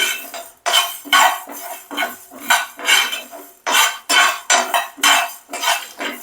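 Whole spices are fried and stirred in a pan for a chicken pickle, with rhythmic, close scraping strokes of a metal spoon against the pan in steady bursts and no voice.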